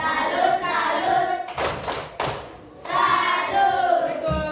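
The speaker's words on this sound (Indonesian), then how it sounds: "Tepuk salut dulu untuk kelompoknya Kalisa" Rhythmic group clapping in a classroom, children and a teacher clapping together as a salute for one group, with voices mixing in and a brief break in the middle before the claps resume.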